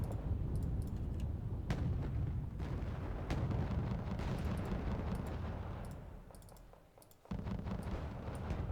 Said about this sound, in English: It's time to start using a bit more artillery here.